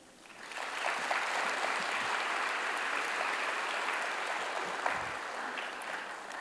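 An audience applauds at a Grade 10 school completion ceremony in Qatar. The dense, even clapping from a crowd swells quickly and holds steady for several seconds with no talk.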